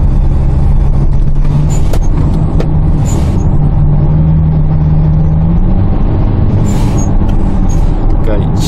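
A 2019 Kia Carnival fitted with an added intake turbo accelerates uphill, its engine droning low and steady under cabin noise while people talk over it.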